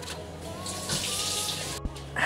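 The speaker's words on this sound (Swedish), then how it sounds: "Och nu ska jag doppa den i vatten." An object is dipped into a bucket of warm water, producing a steady splashing, sloshing wash with a soft knock near the end, close and fairly loud.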